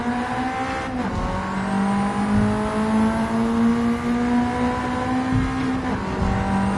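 A Ford Sierra RS 500 in Gran Turismo 7 drives with a steady droning engine note, rising and falling as it shifts through gears, with tire noise underneath.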